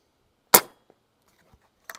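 Umarex Axeon .22 air rifle firing a single sharp shot at a backyard pest-control range, a loud crisp crack that decays quickly, followed by faint small ticks and a brief metallic clatter near the end.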